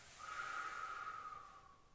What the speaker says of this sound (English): So breath out.